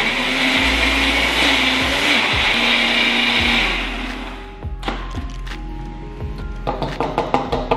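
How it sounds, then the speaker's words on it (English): A Ninja blender whirs loudly and steadily at close range for several seconds, then shuts off, followed by scattered clinks and knocks of handling. "I like my blender. This is the Ninja blender."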